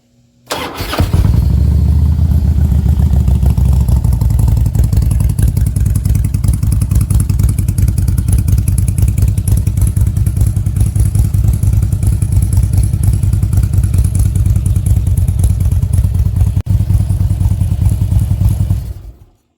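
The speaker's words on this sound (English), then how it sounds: "This is what a Harley should sound like" Harley-Davidson Road King CVO fitted with a Tab Performance 50 Cal exhaust and zombie baffles, idling loud and close with a deep, steady, lumpy rumble that runs unbroken for nearly twenty seconds, no voices.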